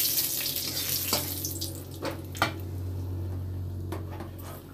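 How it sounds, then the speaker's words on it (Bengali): Dried chilies and bay leaves hit hot mustard oil, the same oil just used to fry lentil dumplings, and crackle and sizzle up close in a steady hiss broken by a few sharp pops, with no talk. "বড়ি ভেজেছি সেই তেলেই শুকনো লঙ্কা তেজপাতা দিয়ে দিলাম"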